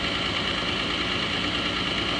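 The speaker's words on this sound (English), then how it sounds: "during idle, this engine has a regular miss" A Slant-6 engine idles with a regular misfire, giving a steady, close, low rumbling drone with a faint uneven pulse running through it and no voices.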